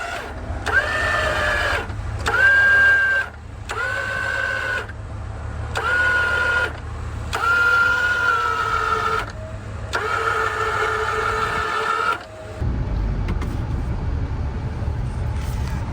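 Winches pulling a Suburban stuck in snow in the Pacific Northwest, whining in six repeated bursts of a few seconds each over a low idling engine hum, close and loud, ending in a steady engine rumble.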